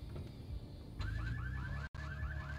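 A warbling siren from a vehicle in GTA III, a repeating wailing tone over a low engine rumble, cut briefly by a short gap before resuming.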